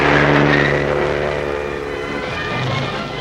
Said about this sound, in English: A propeller-driven automobile that also flies